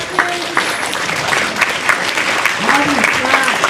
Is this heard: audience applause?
yes